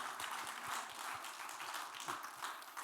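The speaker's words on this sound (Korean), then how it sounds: "우리 주님께 감사의 박수 한번 보냅시다." Church congregation applauding in thanks during a Korean sermon, a steady dense wash of many hands clapping together, fairly loud and continuous throughout.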